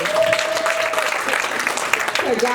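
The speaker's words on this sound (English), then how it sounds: "So give her another round of applause." Audience applause at a graduation ceremony, a steady, dense wash of clapping that fills the whole moment with a faint tone running beneath it early on.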